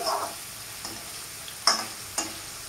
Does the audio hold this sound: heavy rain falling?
no